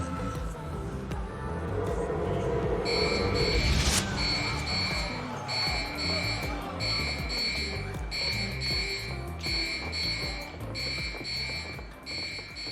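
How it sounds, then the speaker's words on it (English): A fire alarm rings in repeated electronic bursts with short gaps between them, loud and steady over a busy background, with people talking and other noise mixed in. "You pulled the fire alarm?"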